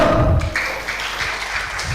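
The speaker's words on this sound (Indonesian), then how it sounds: "Tepuk tangan dulu." A congregation at a Toraja KKT Bogor Christmas service claps together, producing a steady, fairly loud wash of applause with a few duller thumps near the start.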